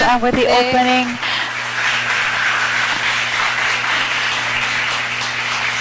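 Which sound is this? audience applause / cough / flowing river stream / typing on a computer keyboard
audience applause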